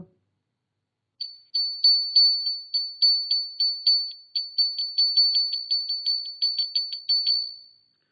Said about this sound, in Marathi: शाळेची घंटा जी वाजते ती तुम्ही रोज ऐकता शाळेत आल्यानंतर